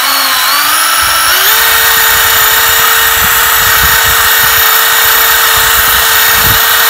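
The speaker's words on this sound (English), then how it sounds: "how long you're supposed to do a burnout for when you're doing a burnout with a burnout car" A Traxxas Slash 2wd RC drag car built as a 1969 Chevy Nova SS does a burnout on carpet, its electric motor whining loud and steady as the pitch climbs and then holds high for several seconds.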